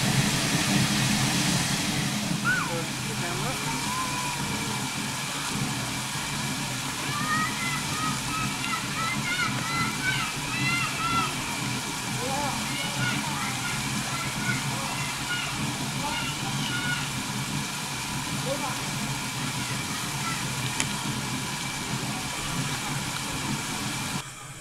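Steady rushing and sloshing of water pouring into a steam locomotive's tank at Thaton, Myanmar, with a low engine rumble underneath and faint chatter in the background throughout.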